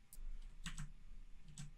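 Faint clicks of typing on a computer keyboard come in a few short clusters of keystrokes, close but quiet, with no talking.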